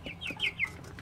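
Meat chickens at day 27 cluck in a quick run of four or five close, clear calls, a brief rhythmic burst with no voices.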